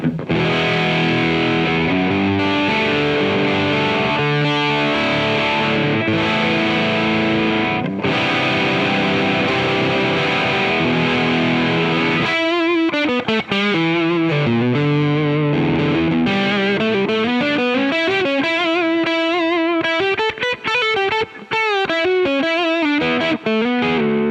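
A Kauffmann '59 SC plain-top electric guitar on its bridge (treble) pickup plays through a distorted, effected tone, first with ringing sustained chords and then with bending, sliding lead lines, loud and continuous.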